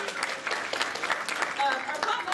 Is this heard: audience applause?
yes